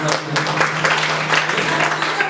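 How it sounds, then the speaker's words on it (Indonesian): Audience applause at a church sermon in Blitar, dense clapping running steadily throughout over a low steady hum, with some voice-like murmur underneath. "Tepuk tangan."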